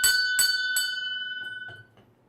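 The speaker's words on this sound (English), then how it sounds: "I'm gonna ring the bell for everybody." A bell, rung in a bike-shop quiz show to mark an answer, strikes three bright metallic dings in quick succession, then rings on and fades away over about two seconds.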